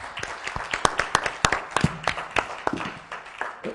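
Audience applause at a conference opening session, scattered individual claps at first that build into brisk, moderately close clapping and then thin out again.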